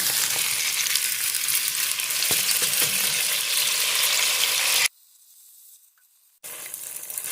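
Rice ingredients hit hot olive oil for arroz con gandules, setting off a loud, dense sizzle that drops away abruptly to near silence and then returns.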